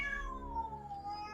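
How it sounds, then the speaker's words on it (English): A new foster cat lets out one loud, drawn-out meow that slides downward in pitch, close by and heard alone with no talk over it. "We have a new foster cat. She's very loud."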